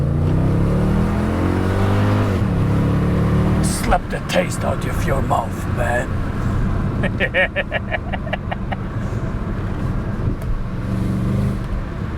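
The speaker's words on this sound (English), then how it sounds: "Oh, I love those old AMG engines." The V8 engine of a Mercedes-Benz CLS 55 AMG revs and pulls hard through first gear with the window open, its deep drone rising in pitch, while someone talks over the loud engine.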